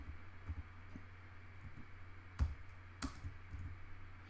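Computer keyboard typing into a search field with autocomplete suggestions, heard as sparse faint clicks over a steady low hum, with a couple of sharper keystrokes standing out.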